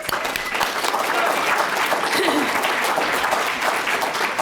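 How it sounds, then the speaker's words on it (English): A large World Convention 2019 audience applauds itself, a loud dense wash of clapping filling the hall continuously with crowd noise and some voices mixed in. "So give yourself a round of applause."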